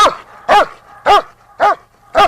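A dog barks repeatedly during trail helper bite work training, five loud, evenly spaced barks close by with short gaps between them and no talk.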